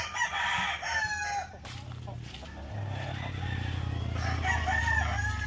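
A sweater asil gamefowl rooster crows on a Filipino breeding farm, a drawn-out call near the start, followed by a low steady rumble with someone speaking.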